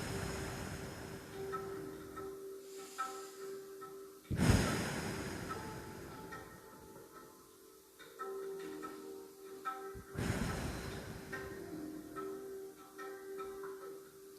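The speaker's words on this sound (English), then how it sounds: "Breathing in and out." Slow, deep breathing during a yoga class, with two long, breathy exhales several seconds apart over a soft, steady background hum in a quiet room.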